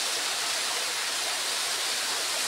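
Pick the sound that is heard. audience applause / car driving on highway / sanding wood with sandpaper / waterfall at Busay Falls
waterfall at Busay Falls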